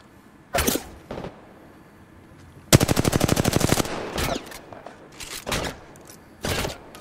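Video game gunfire: a few single loud shots, then a rapid automatic burst of about a second, then more scattered shots, close and punchy against a quiet background.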